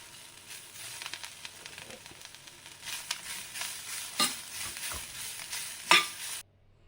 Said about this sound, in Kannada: ಅದೇ ಬಿಸಿಯಲ್ಲೇ ಈ ಕರಿಬೇವು, ಪುದೀನ ಸೊಪ್ಪೆಲ್ಲ ಬೇಯ್ತದೆ.